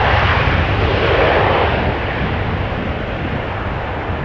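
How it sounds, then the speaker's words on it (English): A KLM Embraer 190 jet departing Amsterdam Schiphol Airport for Budapest roars loudly in a broad, sustained engine rumble, holding steady and then easing slightly as it moves away. "is a departure of a KLM Embraer 190 going to Budapest"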